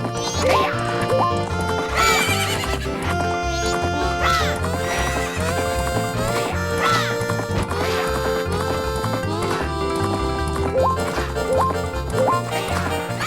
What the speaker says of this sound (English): they're riding fully grown horses